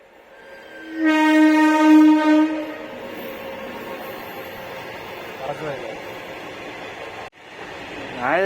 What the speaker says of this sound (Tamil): ட்ரெயின் வருது வருது.